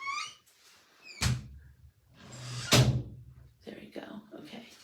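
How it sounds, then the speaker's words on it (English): A room door swings and shuts at close range, with two sharp thuds and some rattling around quiet speech and whispering. "Oh wait, I need to close the door."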